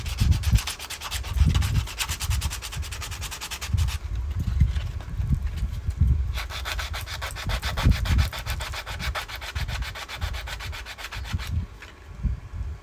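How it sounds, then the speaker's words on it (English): A truck part on a 1993 Ford F150 Lightning being hand sanded with 80 grit sandpaper, steady back-and-forth rasping strokes in an even rhythm, close and fairly loud with no talk. "So we'll sand the higher portions down with this 80 grit to try and get it leveled off"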